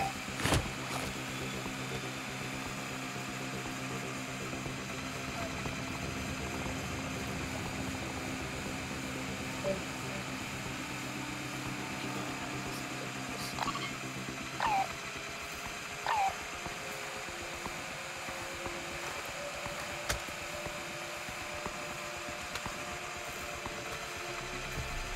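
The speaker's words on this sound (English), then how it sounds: "drilling this safe" A safe being drilled in the video game DMZ gives off a steady, continuous mechanical whir with a rattling hum, holding at one level for a long stretch with occasional small clicks and no talking.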